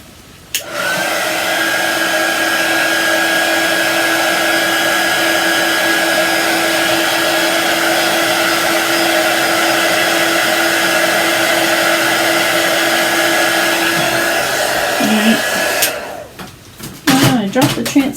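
A hair dryer dries ink on a craft project, a loud steady whir that starts abruptly and runs unbroken for about fifteen seconds before cutting off, close by, with someone talking briefly near the end.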